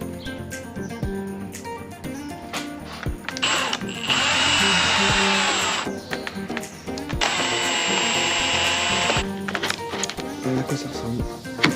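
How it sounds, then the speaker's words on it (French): A power drill drives large self-drilling screws for a taxi bumper build, two long, loud whining bursts of a few seconds each, separated by a short pause, with lighter workshop clatter before and after. "je vais mettre de la grosse vis autoforeuse"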